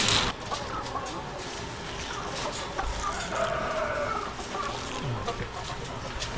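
Breeder chickens on a chicken farm cluck steadily at feeding time, a dense flock chorus of clucks close by with a faint crow, and a voice speaks briefly.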